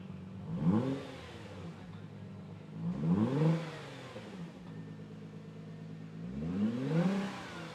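A 2017 Nissan GT-R with an ETS Y-pipe exhaust revs three times from idle, each rise a smooth, deep swell that climbs and falls back, heard from nearby.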